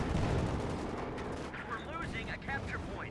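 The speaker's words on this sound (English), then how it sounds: "Shot fired." A gunshot rings out amid the rumble of a Company of Heroes 2 battle between Wehrmacht and US Forces, with a voice speaking over the dense, continuous din of combat.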